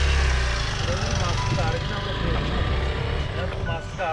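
A parked motorbike idles with a steady low rumble throughout, while people talk nearby over the engine.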